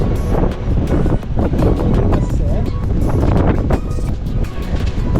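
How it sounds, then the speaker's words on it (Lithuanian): Wind gusting outdoors on Mykonos, a loud continuous rumbling buffet across the microphone, with people talking underneath. "O vėjas kyla."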